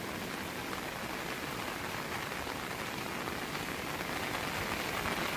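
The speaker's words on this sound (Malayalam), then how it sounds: "നല്ല മഴയും" Heavy rain pours steadily during a drive through hilly grassland country on a stony road under construction, a dense, even hiss that fills the whole stretch without letup or voices.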